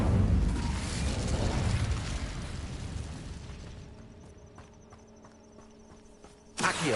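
A fire spell cast in the video game Hogwarts Legacy gives a loud, roaring whoosh of flame that fades over several seconds, followed by faint crackling and a sudden short burst near the end.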